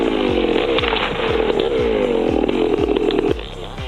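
Stihl 660 chainsaw cutting timber during logging, its engine screaming loud and close, with repeated rhythmic dips in pitch as the chain bites into the wood.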